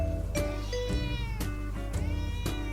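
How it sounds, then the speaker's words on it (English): Fudge, a house cat, meows repeatedly and fairly close, a series of drawn-out tonal calls about every half second to one second over a steady low background hum. "Can you hear my cat meowing?"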